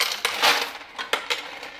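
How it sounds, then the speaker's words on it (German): Coin counting machine at a home office desk tallying loose change, giving sharp metallic clinks and rattles in several bursts over a steady whir, close and fairly loud. "Das ist die Geldzählmaschine."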